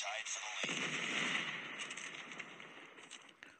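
Gunfire in the mobile shooter Call of Duty Mobile, a sustained burst of close, loud shots that rattles on for several seconds before fading, with a voice talking underneath.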